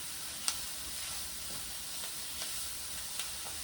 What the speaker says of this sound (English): So let those mushrooms and tomatoes cook up